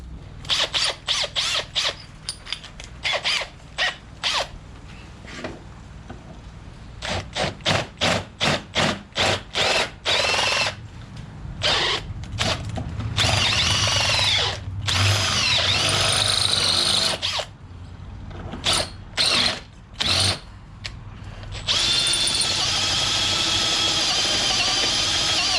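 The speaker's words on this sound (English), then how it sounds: "So we probably want a 12mm drill bit." Power drill with a 12mm bit bores a suspension bush while fitting 6-inch travel shocks to a Suzuki Vitara, whirring loudly in repeated short bursts, then longer sustained runs with pauses between.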